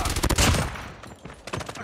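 Call of Duty played on a Samsung Tab A7 produces rapid bursts of automatic gunfire, dense at first and then in shorter, sparser volleys.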